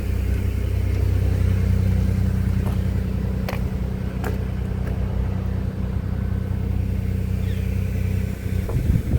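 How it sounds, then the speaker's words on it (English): A car idles and slowly pulls away near the Needles Eye Tunnel in South Dakota, a steady low engine rumble that holds close and even throughout. "wait until this car pulls away"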